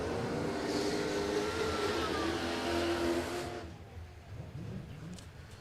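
A drag racing car at Warwick Dragway roars loudly and steadily for a few seconds, then fades away into quieter background noise.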